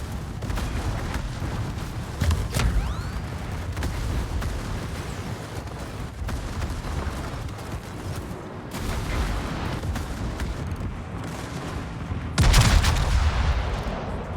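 A battleship's secondary guns fire repeatedly in World of Warships over a low rumbling battle bed. Scattered booms punch through, with a heavier, louder salvo near the end.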